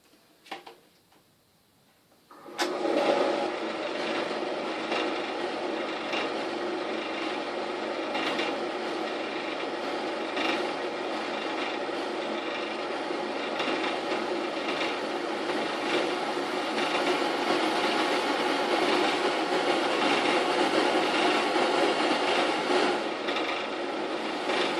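A wood lathe turning a cypress bowl at its lowest speed, starting up after a few quiet seconds into a steady, loud motor whir with faint rhythmic ticking, running unbroken with no talking.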